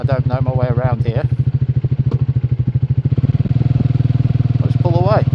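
A Triumph Speed 400 single-cylinder motorcycle idles with a steady, rapid thumping pulse close by, and someone talks over it now and then.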